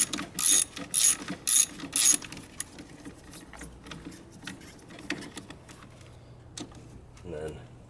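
A ratchet undoes a bolt on a 2005 Ford Focus engine during a valve cover gasket replacement, with four quick, sharp ratcheting bursts up close, then quieter clicks and handling noises.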